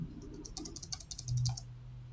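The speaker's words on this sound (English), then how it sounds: "let's just type in" Rapid keystrokes on a computer keyboard, a quick run of close, crisp clicks with short pauses, entering a query into a chatbot.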